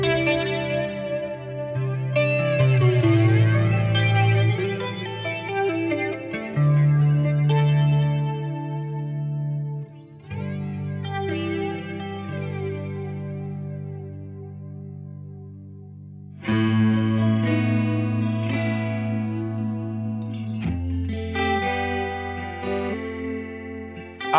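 Distorted electric guitar chords played through a Thunderstorm Flanger pedal ring out with a sweeping, swirling modulation effect, played in sustained phrases with brief pauses between them.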